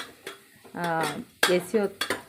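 A spoon clanks against a pot while tomato bath is mixed with spices: a few sharp metallic knocks and scrapes, spaced irregularly, with a voice talking between them.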